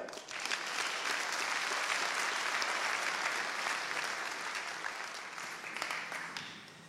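Sustained applause for a deputy from a large room full of people, even and dense throughout, easing slightly toward the end.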